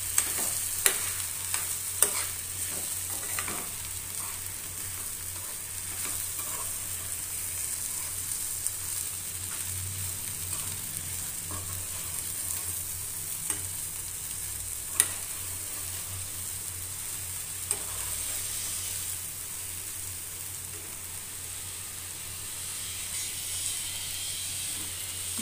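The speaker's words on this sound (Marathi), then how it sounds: "आणि हे व्यवस्थित असं मिक्स करून घ्यायचं" Puffed rice sushila being stirred in a pan, with soft scraping and faint sizzling that run steadily under a constant low hum, broken by a few sharp spoon clicks against the pan.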